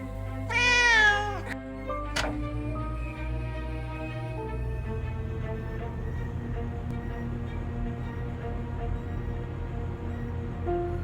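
Cats meowing up close, a burst of rising and falling meows in the first two seconds with a brief second call, then a low steady hum under faint background tones.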